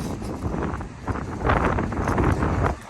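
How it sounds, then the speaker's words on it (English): Gusty wind buffeting a microphone outdoors on an asphalt shingle roof, rumbling and rising in strong surges with no talking. "Windy today, guys."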